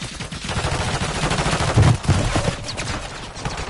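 Rapid video game gunfire in a team shooter match, loud bursts of shots and automatic fire rattling close by throughout.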